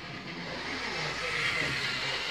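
An old analogue model locomotive with only one driving rod runs steadily as its speed is turned up, giving a continuous whirring motor hum with a broad, even hiss.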